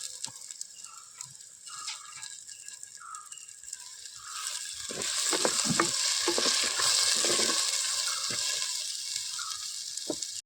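Onions and tomato frying in a pan for Kolhapuri-style misal, a steady sizzle with stirring scrapes that grows louder and denser partway through, close and continuous with no talk.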